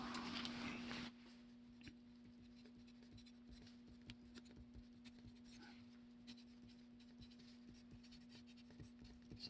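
Marker strokes on a whiteboard while drawing pictures, a steady series of faint squeaks and scratches heard alone after a brief louder burst at the start, with a constant low hum underneath.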